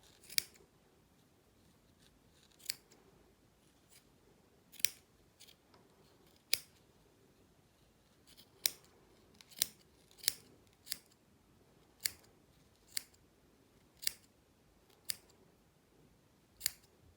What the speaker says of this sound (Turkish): Tam orta kısımdan bu şekilde makasımızla